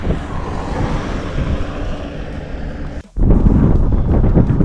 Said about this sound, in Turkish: Karşıdan rüzgar gelmese de iyiymiş ama kısmet işte